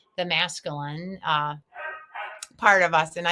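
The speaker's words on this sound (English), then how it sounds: "So if you hear any dogs barking" A dog barks and yips excitedly indoors in short bursts, close by, mixed in with a person talking.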